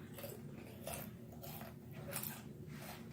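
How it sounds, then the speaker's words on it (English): Close, crisp crunching of carrots cooked in canola oil being chewed at a mukbang meal, with several distinct bites and rhythmic chewing, heard alone without talk. "They crunchy. Y'all hear that?"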